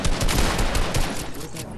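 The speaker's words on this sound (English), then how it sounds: "Me and Bryson are shooting each other." Dense, continuous gunfire from a shooting video game as two players fire at each other. The bursts are loud and close, a steady rattling barrage that fills the whole moment, with faint talk underneath.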